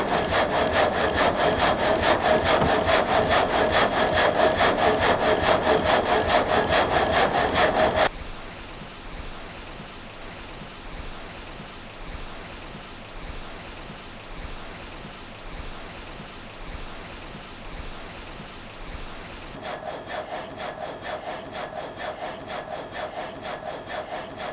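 A water-powered frame saw in an old German sawmill cuts wood with a dense, rhythmic rasping, loud for the first eight seconds, then gives way to a softer rumbling pause before the sawing returns near the end.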